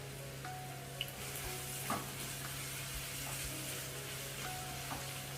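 Chopped onions fry in a pan with a steady, dense sizzle and crackle throughout, with a few faint stirring knocks and a low background hum, no voices.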